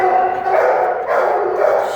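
A shelter dog at a county animal shelter barks and yips loudly and close up in a quick burst lasting about two seconds, with no talk over it.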